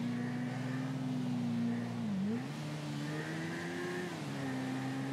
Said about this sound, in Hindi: और भगती है तब तो और अच्छी आवाज आती है बाइक में